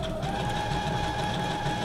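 Sewing machine test stitching through a junk journal signature of paper, a steady continuous whirring hum with fast regular stitch rhythm, close and moderately loud throughout, no talking.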